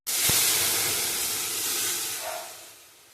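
Cooked dal tipped into hot coconut oil lets out a loud, sudden hiss and sizzle that starts with a sharp thump and then fades slowly. A short scrape follows near the end.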